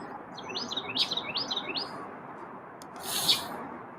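Birds call loudly and close. A run of four rising chirps is followed by a sharper, brighter call over a soft background hiss.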